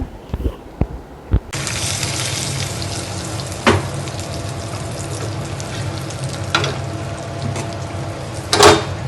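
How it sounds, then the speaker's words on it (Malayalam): Mustard seeds, dried chillies and curry leaves hit hot oil with a sudden loud sizzle after a few sharp clicks, then a steady crackling fry with occasional spattering pops and stirring knocks, no voices. "അതൊന്ന് മുരിഞ്ഞ് വരുമ്പോൾ അതിലേക്ക് കറിവേപ്പില ഇട്ടിട്ട് എല്ലാം നന്നായിട്ടൊന്ന് മുരിഞ്ഞ് വരുമ്പോൾ അതിലേക്ക് ഒഴിച്ചു കൊടുക്കുക"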